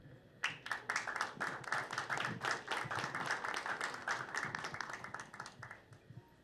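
University council members at an ordinary meeting break into sustained applause, with dense, even clapping from many hands that starts abruptly and carries on steadily for several seconds.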